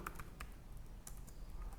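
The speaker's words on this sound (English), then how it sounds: "So over here I am typing my program" Quiet, irregular keystroke clicks from a computer keyboard as a C program is typed into an editor, a rapid patter of taps over a low room hum.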